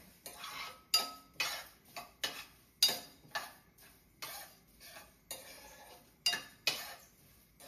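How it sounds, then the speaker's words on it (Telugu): A utensil stirs dry-roasting spices in a pan for chicken pickle, making repeated metallic scrapes and clinks in an uneven rhythm, close and fairly quiet, with no talking. "అన్ని డ్రై రోస్ట్ చేసుకోవాలి."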